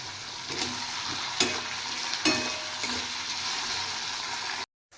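Potatoes and onions fry together in a salted pan, giving a soft, steady sizzle broken by a few sharp scrapes of stirring before the sound cuts off abruptly near the end.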